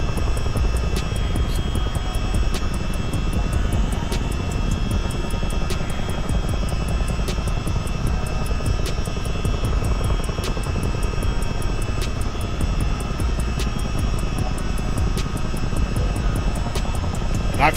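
A CH-47D Chinook twin-rotor helicopter in Microsoft Flight Simulator 2020 drones with a steady, loud engine and rotor roar, broken by evenly spaced faint ticks throughout, with no talk.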